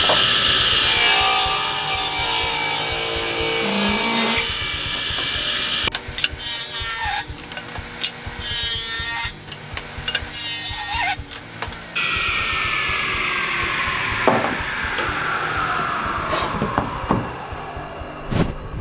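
A saw rips a planed cherry wood board down to final width, a loud continuous whining cut with rising and falling bursts as the blade works through the wood, heard alone with no talking.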